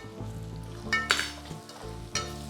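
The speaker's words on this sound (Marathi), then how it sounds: "आता हे सगळे मिक्स करून घेऊया आपण" Dal chicken with garam masala and spices stirred in a sizzling pan, a steady hiss of frying under a few louder scraping strokes of the spoon against the pan, close and with no talking.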